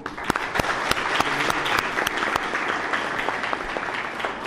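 An audience at a high school in Mboro applauds a philosophy teaching session, with sharp, distinct individual claps standing out over a continuous bed of crowd clapping that starts strong and gradually thins.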